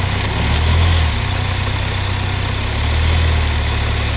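A Hyundai Verna Fluidic diesel car engine idles with a steady low rumble and vibration, swelling slightly twice, close by and alone without voices.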